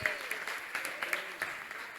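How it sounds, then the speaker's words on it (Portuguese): Church congregation clapping in praise during a service, a moderately full round of hands in a reverberant hall with a few sharper individual claps standing out, fairly quiet overall, with some voices mixed in. "Vamos aplaudir o Senhor"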